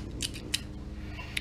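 Paper shrink wrap is pulled off a set of drill bits in a workshop, making a few short, close crinkling and rustling bursts over a low background hum.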